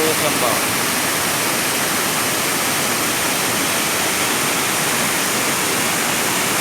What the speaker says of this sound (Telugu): ఈ అందమైన జలపాతం